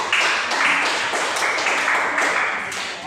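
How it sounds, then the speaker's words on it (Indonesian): A classroom group claps for a presenting student group, a short burst of brisk clapping from many hands that holds steady for a few seconds. "Kita tepuk tangan untuk kelompok 1."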